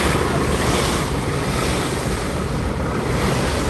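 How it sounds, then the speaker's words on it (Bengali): A passenger launch travelling fast on a river, heard as a loud continuous rush of water and wind buffeting the microphone, steady and unbroken throughout, with no voices. "ইলিশার দিকে যাচ্ছে ফারান নয় লঞ্চ বেশ দুর্দান্ত গতিতে যাচ্ছে"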